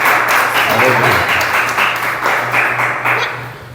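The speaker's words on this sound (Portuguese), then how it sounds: "Vamos aplaudir o Senhor" A church congregation claps together in steady, dense applause that keeps up throughout, while a low musical tone hums beneath and a voice speaks briefly over it.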